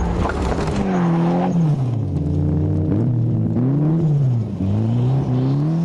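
Mitsubishi Lancer GSR turbo, with its exhaust replaced from the turbo back, driven hard while chasing an Evo 6 during rally practice. The engine roars loud and close, its pitch climbing and dropping through repeated gear changes.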